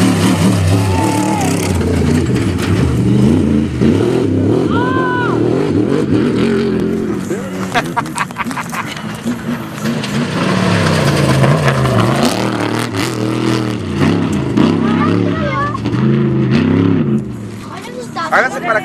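An off-road race vehicle's engine revs and rises at the Baja 1000 in 2009, loud and close, with pitch sweeps up and down as people talk over and around it.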